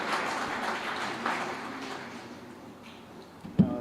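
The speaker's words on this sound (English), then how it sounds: "A round of applause, ladies and gentlemen, for Mr. Tariq Malik." Applause from a conference audience greeting Mr. Tariq Malik at the 16th IEEE International Conference on Open Source Systems & Technologies, a soft steady patter of clapping with a sharp knock near the end.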